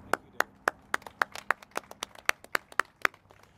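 Sparse, distinct hand claps from a small group at an outdoor civic event for a waterfront park expansion, about a dozen sharp, separate slaps coming at uneven intervals with no talking.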